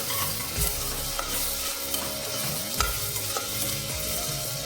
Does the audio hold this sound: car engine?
no